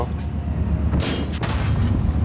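A tank cannon fires in the game World of Tanks, one heavy boom bursting out about a second in over a steady low engine rumble.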